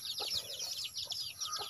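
A chicken at a rural farm hut clucks in quick repeated bursts, close and fairly clear, with faint background sounds between the calls.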